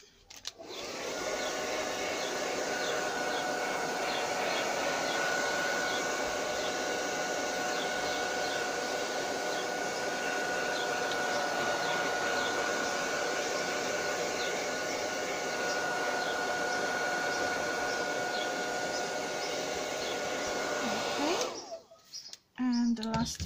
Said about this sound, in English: Now we need to dry it again a little bit.